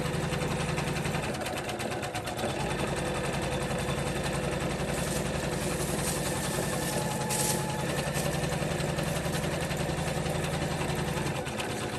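An embroidery machine works steadily on a quilted zipper pouch held in the hoop, a constant close mechanical hum and rapid needle chatter running the whole time without pause or speech.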